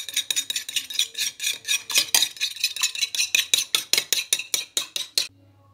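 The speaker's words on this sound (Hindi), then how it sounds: "तो यहाँ मैंने 3 अंडे लिए। इनको मैं अच्छी तरह फेंट लूँगी।" Three eggs being whisked in a bowl with a utensil, about twenty quick, even rhythmic clinking strokes, close and clear, stopping abruptly near the end.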